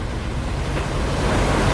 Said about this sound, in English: the biggest of the waves struck.